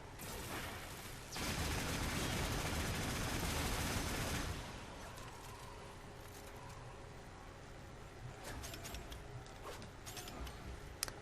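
A heavy gunner in Warframe fires a dense, loud burst of rapid gunfire lasting a few seconds, followed by quieter scattered shots, clicks and game effects.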